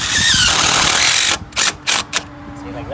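A power drill drives a washer screw into metal chimney flashing, a sustained high whir followed by several short bursts of the motor as the screw seats.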